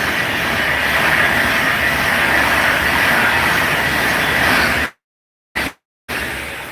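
A Pendolino train passes Rugeley Trent Valley station on a misty day, making a steady, loud rushing roar that cuts out abruptly near the end, with brief bursts before the sound returns.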